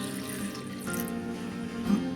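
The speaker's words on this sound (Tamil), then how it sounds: "இப்போ கொஞ்சமாக தண்ணி ஊற்றி" A small amount of water is poured into a grinder jar holding onions, a soft trickle close by that lasts about two seconds.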